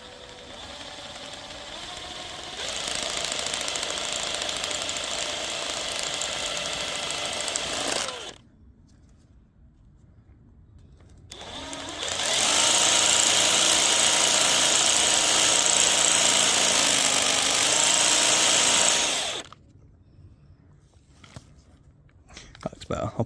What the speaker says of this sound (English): So just while these are out, we're going to give them a quick wire brush.